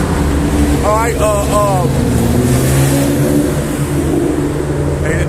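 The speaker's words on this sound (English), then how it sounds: "all the noisy cars want to start riding by" Noisy cars drive past an outdoor street camp in Philadelphia, a loud, continuous engine rumble and revving that swells over the whole span.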